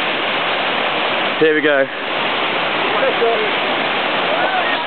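A jungle waterfall near Luang Prabang roars as a loud, steady broadband rush throughout, with a brief burst of voices speaking partway through.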